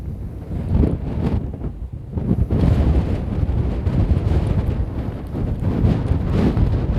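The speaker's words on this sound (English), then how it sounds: "Wind's picking up." Wind gusting across an open golf course at Wynyard Golf Club, a steady broadband rush buffeting the microphone with swelling gusts throughout, loud and continuous with no voices.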